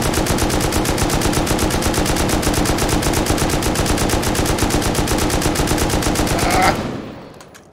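Rapid automatic gunfire during a raid in the survival game Rust, a loud, dense and unbroken stream of shots that stops abruptly near the end, leaving a short fading tail, no speech over it.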